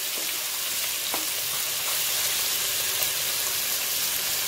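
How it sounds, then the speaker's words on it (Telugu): Cumin, ginger, coriander seeds and fresh coconut fry in a hot pan, giving a steady, even sizzle throughout with no voices. "ఇలా అన్ని వేసి బాగా ఫ్రై అవ్వాలి"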